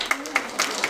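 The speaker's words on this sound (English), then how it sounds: "By round of applause, how many people think I look a little bit like Jack Nicholson?" A comedy show audience gives a few scattered, sparse claps, spaced irregularly over a moment, light and fairly close.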